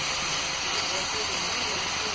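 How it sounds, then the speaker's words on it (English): A bench grinder fitted with 180-grit abrasive trims miniature donkey hooves, giving a close, constant hissing rush with a thin steady whine over it and no break. "prefer to use the 180 grit, and so I'll go ahead and run that right on the grinder"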